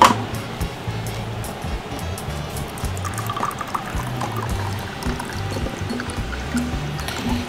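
Water poured into a drinking glass in a home kitchen while preparing lemonade, a steady trickling fill lasting several seconds amid low background clatter.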